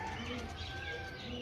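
Pigeons offered for sale coo softly in the background, a faint continuous murmur under a low hum of room noise.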